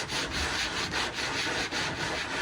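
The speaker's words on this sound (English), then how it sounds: "So instead of just sanding that, we're going to actually block it." A sanding block rubs back and forth across body filler on a car panel, making steady, loud, close abrasive strokes in a repeating rhythm with no talking.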